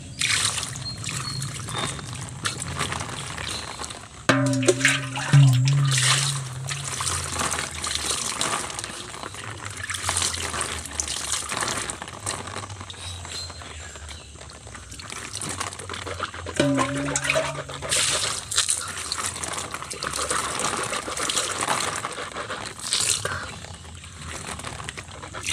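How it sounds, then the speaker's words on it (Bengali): Water running from a tap and splashing while a face is washed, with a continuous gushing flow up close, broken by brief changes as hands splash through the stream. "মুখটা ধুয়ে নিই।"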